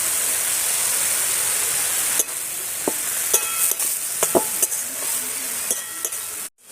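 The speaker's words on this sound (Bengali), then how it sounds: "আমার শাকটা ভাজা ভাজা হয়ে গেছে" Leafy greens stir-fried with turmeric, salt and chilli powder in a pan, giving a steady broadband sizzle with intermittent scraping and clinking of a spatula against the pan, close and alone, ending abruptly.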